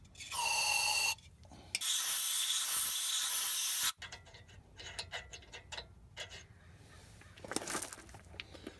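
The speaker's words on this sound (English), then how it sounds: "spray, blow, spray, wipe" An aerosol brake cleaner sprays on the brakes of a 2001 Ford F-350 in two loud, hissing bursts of a few seconds each, followed by quieter scraping and wiping sounds close by.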